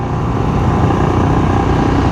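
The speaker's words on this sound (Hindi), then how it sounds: "वो जो इसकी होती है ना टैपेड नॉइज इंजन की, वो भाई मुझे सुन रही है, टिक टिक टिक टिक" Royal Enfield-style Scram 440 motorcycle engine running steadily during a pillion ride on a winding hill road, a continuous close mechanical drone with a faint rapid tappet tick woven into the hum.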